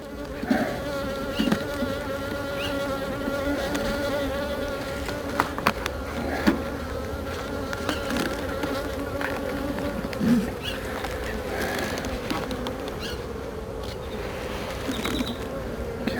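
A dense, steady hum of many honeybees buzzing around an opened nuc hive during an inspection, close and continuous, with occasional louder individual bees passing near.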